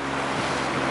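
A Bodrum Type R motor fishing boat runs on the open sea. Engine drone, wind and rushing water blend into a loud, constant wash with no talking.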